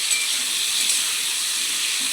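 Vegetables being lightly fried in a pan give off a steady, close, bright hiss of sizzling that runs evenly throughout without pause.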